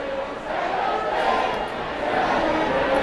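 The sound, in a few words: soccer crowd shouting cheekily at the referee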